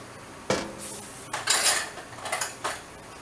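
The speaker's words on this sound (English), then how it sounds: "Now what I'm going to do is I'm going to get my potato masher out of there." Metal kitchen utensils clatter and clink as a potato masher is pulled from among them while canning strawberry jam, a sharp knock followed by a cluster of rattling clangs, close and alone.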